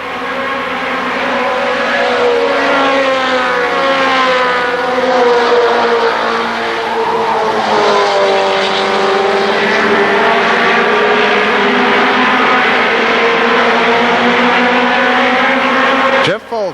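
Race cars on the Kil Kare Speedway oval during the 1994 Labor Day Championships roar past in loud engine drones that swell and bend in pitch as they pass, with an announcer's voice over them.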